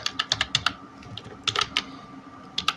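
Computer keyboard typing while entering code for a Python Flask database migration, quick bursts of close, crisp keystrokes in two clusters separated by a short pause, with no voices.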